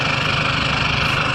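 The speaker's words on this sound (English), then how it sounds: "Even me talking loud cannot overshadow the sound of this exhaust." A Toyota Innova with a CRL Performance aftermarket exhaust idles steadily and loudly, a continuous droning engine rumble with no pauses.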